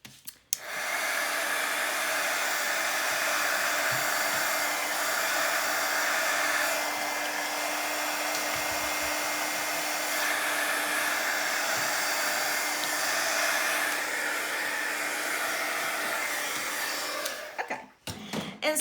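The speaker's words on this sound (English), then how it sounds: "I am going to run just a little bit of heat on these, and it won't take but a second" A heat tool blows hot air onto paper craft mini file folders with a loud, steady whooshing roar lasting most of the stretch, clicking on at the start and cutting off near the end, with no talking.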